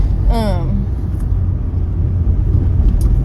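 Road traffic rumbles in bumper-to-bumper congestion, a steady low drone of cars heard from inside a vehicle, with a short tonal chirp near the start and no talk.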